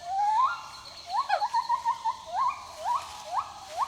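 Gibbons call to warn rival groups off their territory, a series of rising whooping hoots that climb and repeat in quick bursts, moderately distant against a soft forest background.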